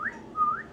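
A whistled imitation of a young quail's lost call after a covey is broken up: two short rising-and-falling whistled notes, clear and fairly close, with no talking.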